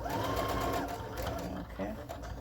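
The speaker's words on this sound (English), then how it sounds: "Making sure to remember to take your pins out as you sew" Sewing machine back stitching a garment seam, a steady close mechanical whir running throughout with soft voices in the background.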